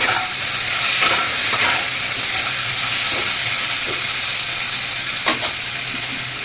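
Steady, loud sizzling of food frying in a pan, with a few soft scraping and stirring clicks scattered through it and no voices.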